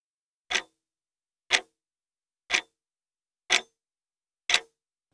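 Five clean, evenly spaced ticks from a clock, one per second, crisp and close against total silence.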